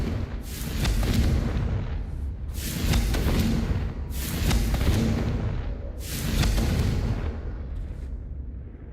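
Confringo fire spell in the Hogwarts Legacy video game going off in four booming blasts spaced about every two seconds, each with a heavy rumbling tail, loud and close.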